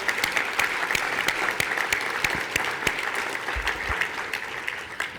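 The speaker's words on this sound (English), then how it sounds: "A round of applause for the committee themselves." A ceremony audience at the CSPC 2023 award event applauds the organizing committee, steady dense clapping from a sizable crowd lasting several seconds without a break.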